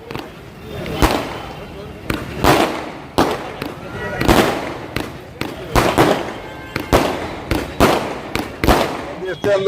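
Firecrackers burst at a BJP election-victory celebration in Umargam, Gujarat, a loud, irregular string of sharp cracks and bangs, over a dozen, with crowd noise between them.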